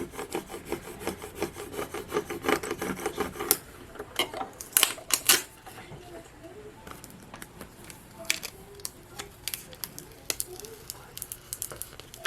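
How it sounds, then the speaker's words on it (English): A plastic scraper tool rubs vinyl transfer tape down onto a glass jar in a series of quick, close, scratchy strokes, busy at first, then sparser with brief pauses, and no talk. "Scrape it down again, make sure it's on there really, really good."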